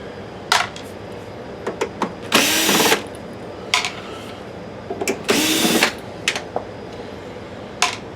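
Screws come out of the cover of a Sanyo PDG-DHT100L DLP video projector during a teardown, with sharp clicks and ticks and two longer bursts of screwdriver whirring in a quiet room.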